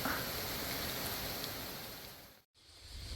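Steady hiss of rain in Japan between Osaka and Kyoto, falling around leaky shelters during an urban hike, a continuous close wash of noise broken by a brief silent gap before resuming.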